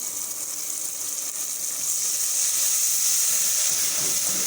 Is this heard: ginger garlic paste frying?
yes